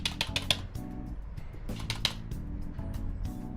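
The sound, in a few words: voice imitating hard keyboard typing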